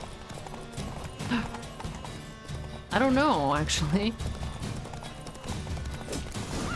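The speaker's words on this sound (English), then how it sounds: "Oh my god, I heard the horse though." Horse hooves clopping in The Witcher 3: Wild Hunt, with a loud whinny in the middle, over background game sounds, with a person briefly talking.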